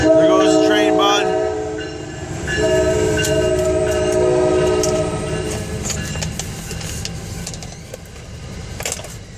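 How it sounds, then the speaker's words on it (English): Passing train sounds a loud horn at first, then wheels rumble and clack along the rails with clanging, ringing bell-like hits, while a person speaks briefly near the start. "Oh, there goes the bell. Ring, ring, ring. There he goes. There goes the train, bud."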